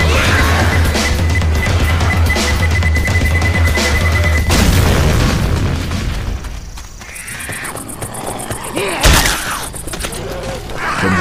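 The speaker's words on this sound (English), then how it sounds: "Grabbing a pipe bomb. Grenade!" A pipe bomb in the video game Left 4 Dead 2 gives off rapid, evenly spaced beeps, then goes off in a loud booming blast, with a second sharp blast a few seconds later amid clattering game noise.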